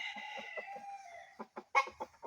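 A captured wild red junglefowl clucks close by in a string of short, sharp calls, some rising into louder squawks, with brief gaps between them.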